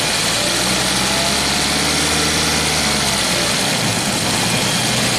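A 1990 Jaguar XJS V12 idles steadily after an idle adjustment, a dense, even engine hum with no surging, close and loud throughout with no other sounds.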